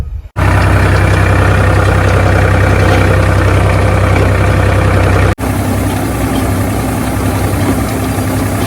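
A farm tractor rigged with a rotavator runs in a village field, its diesel engine idling loud and steady with a deep, continuous rumble that briefly dips once partway through.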